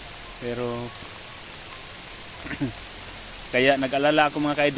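Rain falls steadily on a mountain, a soft continuous patter under someone talking in Tagalog.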